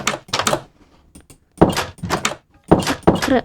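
A wooden door in Minecraft clicks open and shut several times, short distinct knocks and clacks repeating in quick pairs, close and fairly loud with nothing else around.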